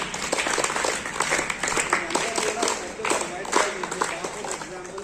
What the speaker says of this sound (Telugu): రైట్, క్లాప్స్ చేయండి. క్లాప్స్.